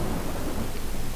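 Thunder from a lightning strike in Project Zero 2 Wii Edition rolls as a loud, dense rumble mixed with steady rain, sustained throughout a brief moment with no talk.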